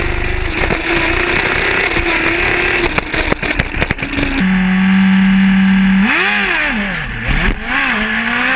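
Motorcycle engine revving close by, with a steady drone that climbs in pitch and then swoops up and down through several loud revs, no talking.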